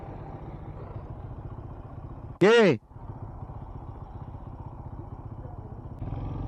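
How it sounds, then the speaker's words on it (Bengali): A motorcycle on a touring trip near Kuakata and the Sundarbans idles after pulling over, with a steady low engine rumble throughout that is broken by a brief loud voice. "এখানে বাইকটা থামালাম।"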